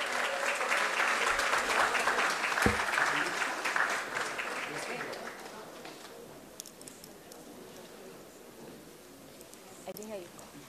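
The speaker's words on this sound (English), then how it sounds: "Can we give them a round of applause as we say thank you to them?" An audience claps steadily at a school graduation ceremony, the applause fading out after several seconds, leaving a quiet room with faint movement.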